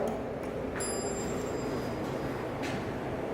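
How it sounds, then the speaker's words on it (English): A 1990s Dover traction elevator bell at a beach resort rings once with a bright, high chime that lingers and fades over steady background noise. "Let's ring the bell."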